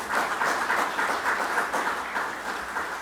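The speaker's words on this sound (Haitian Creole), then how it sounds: "sous vos applaudissements" An audience applauding at a live talk or conference, a dense, steady wash of many hands clapping that holds throughout without any voices.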